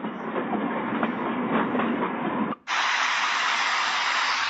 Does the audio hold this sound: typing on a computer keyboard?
no